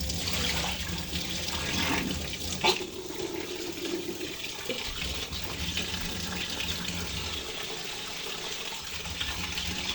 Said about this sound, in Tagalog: Malakas yung water.